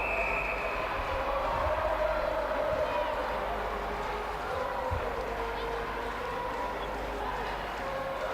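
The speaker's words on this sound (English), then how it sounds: "With all the cheering, my ears are going to be hurting after this match." A steady, dense crowd roar at a netball World Cup qualifier between Zimbabwe and Zambia, filling the whole stretch at an even level, with a commentator speaking over it.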